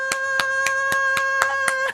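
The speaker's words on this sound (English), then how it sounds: "Give yourself a round of applause." Brief applause during a children's dance program, several sharp claps spaced at an even beat under a steady musical tone, close and moderately loud.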